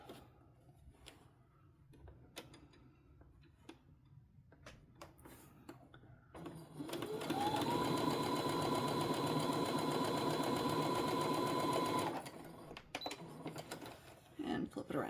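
A sewing machine stitches a 1/4 inch quilt seam beside a diagonal line in a steady, whirring run of about five seconds, close and fairly loud, with quiet handling noises and light talk before and after.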